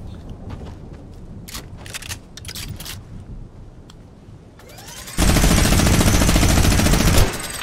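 Sustained minigun fire from Fortnite Battle Royale kicks in partway through, a loud, dense, continuous roar of rapid shots, preceded by scattered clicks and distant single shots.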